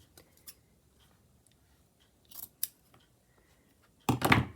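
Scissors snip through thick, bulky fabric in a few sharp, separate cuts spaced across quiet pauses, ending with a louder crunching chop up close.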